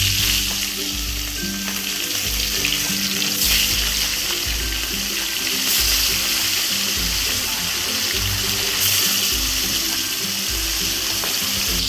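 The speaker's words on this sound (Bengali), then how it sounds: "এখন আমরা মাছটাকে ভেজে নিই।" Marinated katla fish frying in hot oil in a wok for a doi katla recipe, a loud continuous sizzle with bubbling and occasional spatter bursts, no speech.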